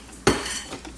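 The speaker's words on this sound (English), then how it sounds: "Just gonna scramble it. Move them around." Eggs poured and moved around in a hot oiled pan for shrimp fried rice: a sharp clatter of utensil on pan, then a soft continuous frying hiss, close and alone.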